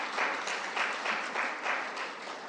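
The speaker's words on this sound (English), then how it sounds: "Can we please affirm them with applause?" A cathedral audience applauds with steady, dense clapping in a reverberant room, moderately loud and continuous for the whole stretch with no speech over it.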